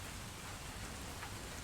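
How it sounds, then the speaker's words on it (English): Steady, loud rain pours down in a dense, unbroken hiss close by, drumming on a surface with no pauses and no voices. "Are you the reason for the loud rain sounds?"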